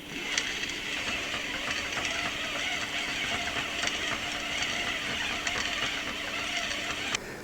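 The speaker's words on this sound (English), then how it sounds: "Now let's hook this to the rod and reel it on." A fishing reel on a rod winds line off a KastKing V10 spooling station, producing a steady, even whirring with faint regular clicks that run for several seconds without any speech.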